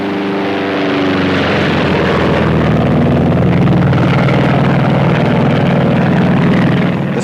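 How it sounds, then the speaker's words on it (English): Grumman Avenger propeller aircraft from 1945 taking off from a Royal Navy carrier in the Pacific, a loud, steady engine drone with propeller roar building slightly and holding throughout, no voices. "Next, an Avenger is off on the job."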